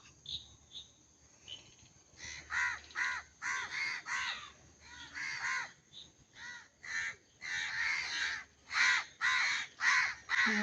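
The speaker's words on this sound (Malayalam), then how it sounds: "അതൊരു കാക്ക." Crows caw repeatedly in loud, harsh bursts, several birds calling one after another in an irregular rhythm with faint ambience between calls.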